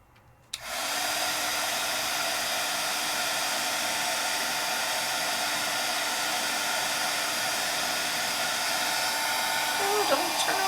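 An embossing heat tool blows hot air over a craft surface, starting abruptly and then roaring at a loud, steady whoosh that runs unbroken to the end.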